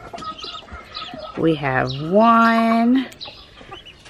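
Several small chicks give rising, high-pitched peeping calls close by, with a sustained loud stretch in the middle, while people talk quietly around them.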